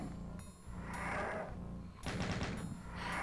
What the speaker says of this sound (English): I've got the plasma ammo to spare.